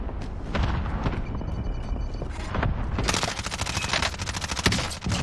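Dense, continuous gunfire from a Warzone match, with rapid bursts crowding together into a loud fusillade that grows sharper and more intense in its second half.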